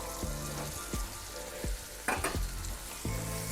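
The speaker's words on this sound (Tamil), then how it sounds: "இப்போ இது கூட பீக்கங்காய் சேர்த்துருவோம்" Ridge gourd pieces stirred into a gingery, garlicky masala gravy frying in a pan give a constant close sizzle, broken by repeated spoon scrapes against the pan at a roughly even pace.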